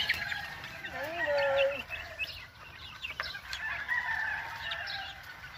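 Young gamefowl chicks on a farm chirp and cluck in scattered, close peeps with short rising and falling calls over a soft outdoor background.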